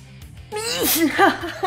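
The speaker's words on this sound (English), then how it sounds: "Because I was trying not to sneeze while I said sneeze." A single sudden human sneeze bursts out after a short breathy intake, close and loud, in an indoor setting while miniature painting is underway.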